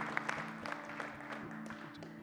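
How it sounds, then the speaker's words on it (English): Church congregation clapping in a sanctuary, a scattered, moderately quiet patter of hands over a steady low hum, with brief voices mixed in. "Let's pause and let's clap for that."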